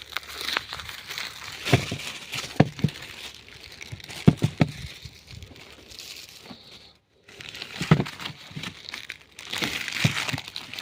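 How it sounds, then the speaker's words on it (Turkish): A large plastic garbage bag is opened and torn, giving loud close crinkling and crackling in bursts with short tearing rips, a brief pause midway, then more crumpling. "Şimdi çöp poşetimizi yırttım."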